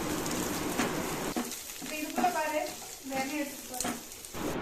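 Sliced medium onion frying in oil in a pan for fried rice, a steady crackling sizzle close by, with a voice speaking over it for part of the time.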